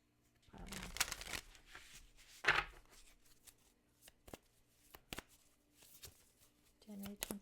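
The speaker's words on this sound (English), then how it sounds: "So sometimes I can actually feel the energy of when I'm shuffling." Tarot cards being shuffled by hand in short riffling bursts separated by soft taps and pauses, close and quiet, with a voice speaking over parts of it.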